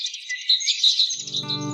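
Birds chirp and tweet in quick, bright repeated calls on a sunny morning, fairly close and clear, with a low sustained musical tone entering underneath partway through.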